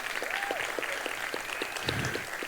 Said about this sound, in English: let's give James and the Jazz Foundation of West Tennessee a round of applause